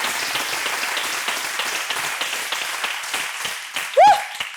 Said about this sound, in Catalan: Fort aplaudiment a la innovació pública.